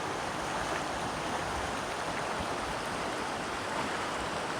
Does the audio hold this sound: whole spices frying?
no